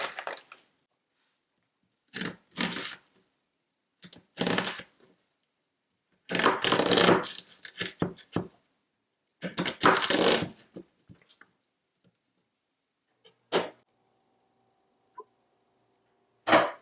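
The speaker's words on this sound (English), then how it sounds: "And then we'll add the split peas." Dried split peas are poured into a soup pot for French Canadian pea soup, in several separate short rattling bursts. Near silence falls between the pours, with a faint tone near the end.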